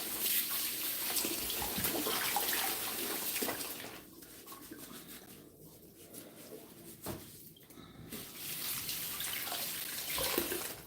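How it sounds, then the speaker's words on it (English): Oranges, lemons, ginger, mint and cucumber being rinsed under a running tap, a steady splashing water flow that eases off midway then returns, with faint birdsong in the background. "right now we're just washing our ingredients"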